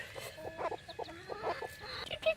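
Soft, low clucking from hens and young chicks murmurs steadily at close range, a few quiet peeps scattered through.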